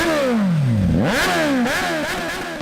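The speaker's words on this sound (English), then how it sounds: "Shadow revved the engine" A large military motorcycle engine revs hard, its pitch sweeping down and then surging up in loud roaring bursts before settling into a rumbling idle.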